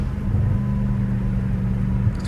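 Deep, steady idle rumble from a straight-piped Dodge Challenger Hellcat Redeye, heard close and continuous with a low droning throb and no revving.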